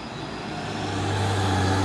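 A Hino single-axle truck rolls by on the road, its low, steady engine drone and tyre roar building slightly louder toward the end, with no voices.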